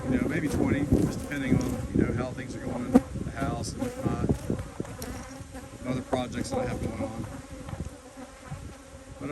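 Honey bees buzz steadily around apiary hives in a pasture, a dense continuous hum with individual bees passing close. A voice speaks under the swarm.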